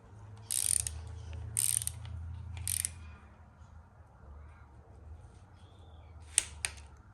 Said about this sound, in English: so now we'll torque them up to spec